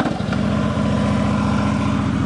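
A 2010 Harley-Davidson Road King Police motorcycle with factory ABS runs steadily at idle, its V-twin engine loud and close with a continuous, even, pulsing low rumble throughout.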